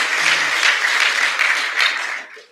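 An audience at a graduation ceremony claps in sustained, dense applause that swells in waves and fades out at the end, with no talking over it.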